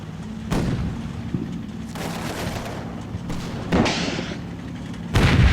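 Tank guns firing in the Combat Mission wargame, heard as about five heavy, distant booms at irregular intervals. Each bang leaves a rumbling tail over a low background.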